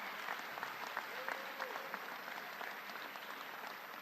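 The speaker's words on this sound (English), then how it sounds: "Give a round of applause for your team leaders who brought Alberta to Ottawa." Sustained applause from a crowd at a reception for Alberta business executives in Ottawa, a dense, steady patter of many hands clapping throughout with no talk over it.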